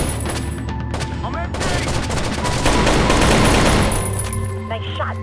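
Rapid gunfire from the shooter game Tom Clancy's Rainbow Six Shadow Vanguard, with loud bursts of automatic fire and scattered single shots throughout, and a voice speaking briefly over the shooting.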